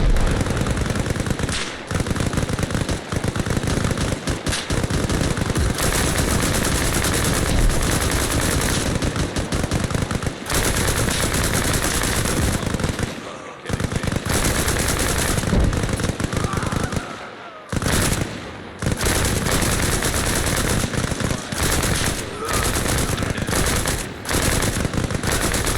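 Sustained video game gunfire during a training session: loud, nearly unbroken automatic fire with many close rapid shots and only a few short pauses.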